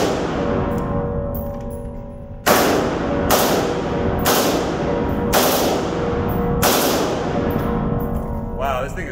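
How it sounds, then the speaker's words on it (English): An HK33 rifle fires on full auto outdoors, with several short, loud, close bursts spaced about a second apart and each echoing briefly, over a steady background hiss. "this thing is really controllable on full auto though"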